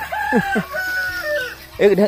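Backyard chickens on a small egg-laying flock clucking and calling at close range, a couple of drawn-out calls followed by a quick burst of clucks.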